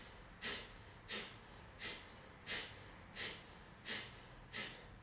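Short, sharp pumping exhales in a breathwork exercise, seven forceful breaths pushed out through the nose at an even rhythm about every 0.7 seconds, close and fairly quiet over a soft background hiss.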